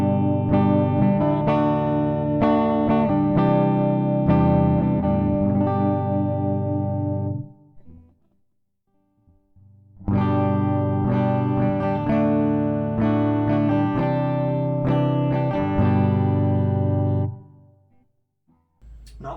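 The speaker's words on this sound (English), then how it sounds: "next we'll do the neck pickup" Electric guitar, a Gibson Les Paul or an Oscar Schmidt, on a warm neck pickup, strummed chords ringing for several seconds, a brief pause, then another run of sustained chords fading out.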